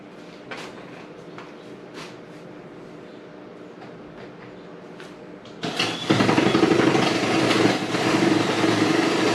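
After a quiet stretch with faint clicks and knocks, a power drill starts abruptly on plywood and runs with a loud, harsh grinding roar.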